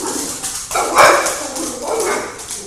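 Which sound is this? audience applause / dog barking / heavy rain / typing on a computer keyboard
dog barking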